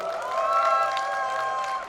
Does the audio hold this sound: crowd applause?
yes